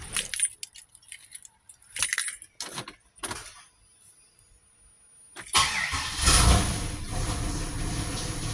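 A 2006 Pontiac Grand Prix with a freshly swapped engine starts up after a few seconds of keys jangling and faint clicks, then the engine catches and settles into a loud, steady run.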